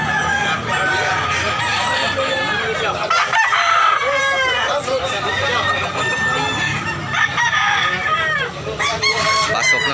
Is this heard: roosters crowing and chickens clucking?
yes